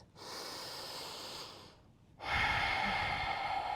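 Slow, deep breaths during a vinyasa yoga flow: a long audible exhale, a short pause, then a fuller, louder breath close to the mic, with no talking.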